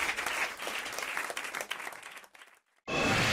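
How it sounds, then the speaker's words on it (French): Studio audience applause on a French radio comedy show, loud and dense, fading briefly to near silence before a second strong burst of clapping. "Sous vos applaudissements, comme aurait dit Jacques Martin."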